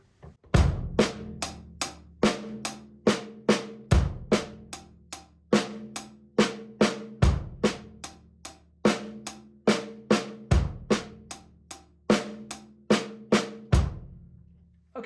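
Sixteenth-note paradiddle groove on hi-hat and snare with a bass drum thumping on beats one and three, a steady repeating pattern played close and loud, with no voices.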